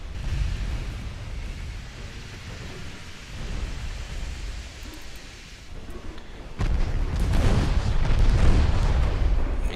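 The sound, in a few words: ship ammo detonation explosion in the video game Ultimate Admiral Dreadnoughts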